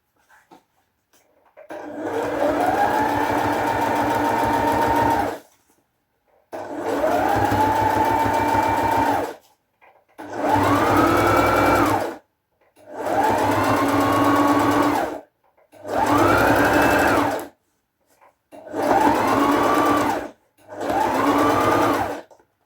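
A sewing machine stitches fabric in seven long runs, each several seconds of steady, loud close-up whirring broken by short pauses.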